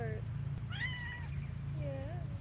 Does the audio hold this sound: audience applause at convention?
no